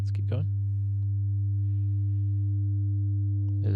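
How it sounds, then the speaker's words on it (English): A steady, buzzy sustained test tone rich in harmonics hums throughout, with brief clicks at the start and end. "this type of distortion is adding odd harmonics"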